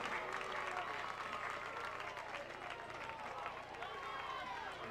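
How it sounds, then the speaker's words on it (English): Braves fans at a varsity football game against Taylor give an injured center a sustained round of applause as he walks off, a broad crowd clapping that runs throughout under a commentator's voice. "He gets a nice round of applause from the Braves fans"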